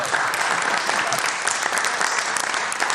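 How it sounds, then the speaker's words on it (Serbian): A studio audience applauds the finalists of a reality show: dense, sustained clapping from many hands, loud and even throughout, with no break. "Može sad aplauz slobodno, da."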